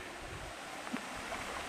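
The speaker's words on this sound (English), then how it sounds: "About a 15 to 20 km/h wind blowing overhead." Steady wind blows over a small, low-water trout stream, a soft continuous rush of air and water with a faint brief knock partway through, no voices.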